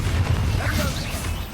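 A Bombarda blasting spell hits in Hogwarts Legacy with a loud, rumbling crash and a swishing burst, short and close amid combat noise.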